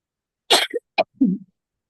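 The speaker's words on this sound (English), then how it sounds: "I just talked about coughing and now we must be coughing" A single close, harsh cough bursts out, followed by a couple of short throaty coughs and a low clearing of the throat, then silence.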